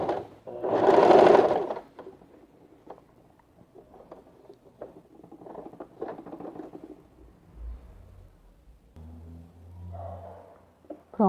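A sewing machine stitches a seam on a men's backpack in several close, rattling runs of stitching separated by short pauses, loud at the start and softer later on.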